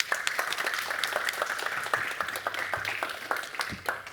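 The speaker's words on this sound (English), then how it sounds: "So please give him a round of applause." An audience claps for a presenter at a blockchain tech talk on Golem DB, a fairly faint, scattered round of applause with individual claps standing out.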